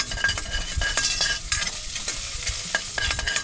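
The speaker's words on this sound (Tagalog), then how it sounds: "Haluin lang po natin hanggang sa mag-golden brown itong ating bawang" Garlic frying in a little oil and stirred until golden: steady, loud sizzling right up close, with continual scraping and the odd light clink of the utensil against the pan.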